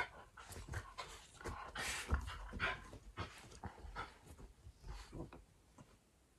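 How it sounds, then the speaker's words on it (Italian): Small dogs panting and whimpering close by, with quick breathy bursts and thin whines in an irregular, busy rhythm and no talk over them. "Ma che teneri questi cagnolini che si abbracciano"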